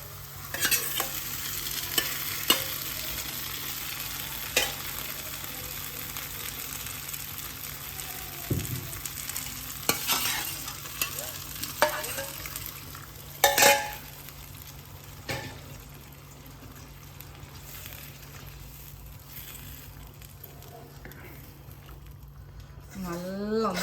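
Cooked green gram is stirred in a frying pan with a gentle sizzle, a spoon scraping and knocking irregularly against the metal while a voice talks now and then.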